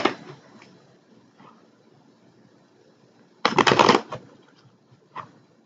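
Tarot cards being shuffled for a clarifying draw: a loud dense riffle burst of about half a second, with a few faint card flicks and soft handling noises before and after, no talking.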